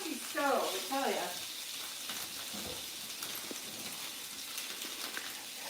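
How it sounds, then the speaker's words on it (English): Oxtails searing in a pan on a touchy home stove, a soft steady sizzle that continues quietly with a voice briefly audible near the start. "To me, this is like searing it"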